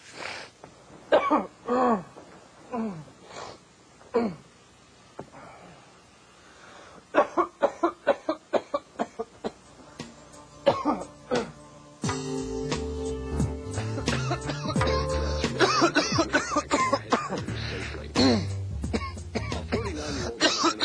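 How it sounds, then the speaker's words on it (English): Repeated harsh coughing, several bursts spaced apart, some paired with throat clearing, fairly close; later a steady background noise bed fills in beneath. "How long have you had this cough?"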